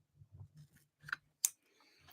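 Scissors snip a tiny hole in a juice pouch, heard as a few quiet cutting clicks and one sharp snip, close and soft, with faint handling noise around them.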